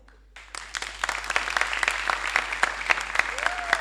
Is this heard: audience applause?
yes